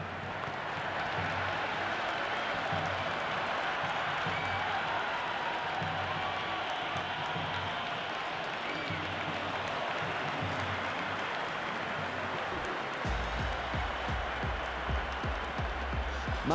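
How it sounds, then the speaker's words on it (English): A stadium crowd in the Cricket 26 video game keeps up a dense, steady roar of applause and cheering from the stands, loud and continuous throughout, with faint commentary speech beneath it. "There's a buzz, a real buzz coming from the stands."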